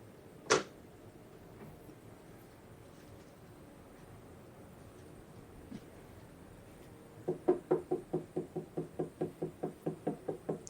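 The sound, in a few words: knocking at a door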